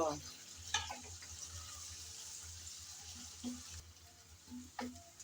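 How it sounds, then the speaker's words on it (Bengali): Chopped onion frying in hot oil gives a steady hiss. Now and then a spatula stirs the pan, scraping and clinking against it up close. "হালকা করে নেড়ে চেড়ে আমি পেঁয়াজ কুচি ভেজে নেব"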